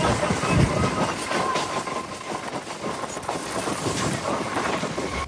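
A passenger train on the Sealdah to Namkhana line in West Bengal runs along steadily, its rolling rumble and rhythmic rail clatter continuous and close, with some wind buffeting.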